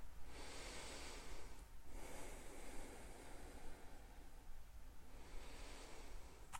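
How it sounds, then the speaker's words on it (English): Slow, continuous breathing through the nose during a guided breathing exercise, with long airy inhales and exhales flowing into each other without pause, soft and close, with no talking. "I want your inhale and your exhale to have no stopping point in between"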